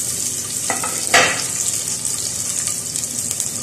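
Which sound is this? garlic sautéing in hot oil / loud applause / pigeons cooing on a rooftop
garlic sautéing in hot oil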